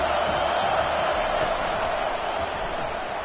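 A stadium crowd in a Georgia Tech vs Miami college football video game roars in a dense, sustained wash of noise, loud and steady, with a commentator's voice faintly underneath.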